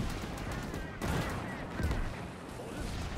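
Dense gunfire rattles through a World War II video game battle on the Iwo Jima beach, a continuous barrage of overlapping shots at moderate level, with a few heavier thumps mixed in.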